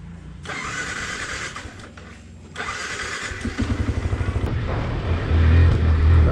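A friend's motorbike starting on a road trip in eastern Nepal, a burst of cranking and mechanical noise followed by the engine catching into a rapid, pulsing idle that grows louder and steadier up close, with no talking.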